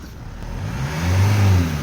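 A Kia Carens engine fires up and revs, a low rumble rising into a strong steady roar near the car, with no one talking over it.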